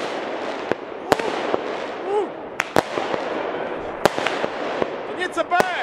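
Fireworks bursting outdoors at a spontaneous neighbourhood show of leftover launcher cakes, with several sharp separate bangs and crackles spread across the span, some near and loud, while people talk excitedly throughout.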